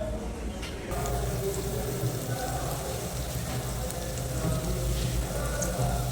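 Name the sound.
green chillies and vegetables frying in oil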